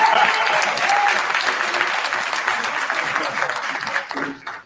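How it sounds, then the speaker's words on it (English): Applause at a Dolton city board meeting, a dense wash of clapping from the room that holds steady, then thins and fades out at the end. "I'm going to ask if everybody can give Keith Freeman a round of applause"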